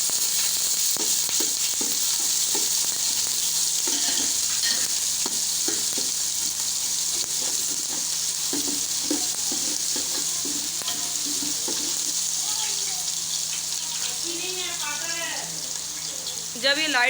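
Ginger-garlic paste sizzles loudly in hot oil in a pan while being stirred, giving a steady, dense frying hiss with scraping spoon strokes throughout, for a dhaba-style egg ghotala.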